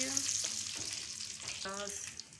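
Curry leaves sizzling in hot oil in a home kitchen while a spinach and potato dish is cooked, a soft steady frying hiss with brief tonal clinks, fairly quiet and close.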